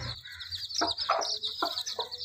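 Native country chicken chicks (naattu kozhi) chirp and cluck in short bursts, with several peeping calls close by over a steady high-pitched background hum.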